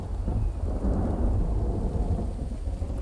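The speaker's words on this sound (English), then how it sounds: "It's loud and stormy outside." Rumbling thunder and steady heavy rain from an outdoor thunderstorm in a survival video game, a dense continuous roar with low booming swells throughout.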